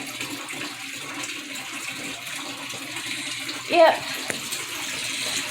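Water runs from the tap into a bathtub as it fills, a steady close rushing hiss throughout, with a brief spoken word partway through.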